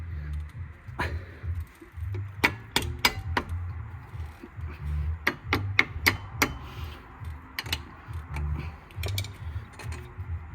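A screwdriver presses a brake caliper piston back on a Ford Focus MK2 1.6 TDCI during front pad and disc replacement, giving irregular sharp metallic clicks and taps over a low background hum, close and moderately loud.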